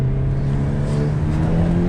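A stock Hyundai Elantra N engine revs hard under acceleration, giving a loud, steady, close drone that holds its pitch throughout.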